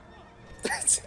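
Horses in World of Warcraft giving a brief neigh, a short rising whinny over game background noise, close and moderately loud.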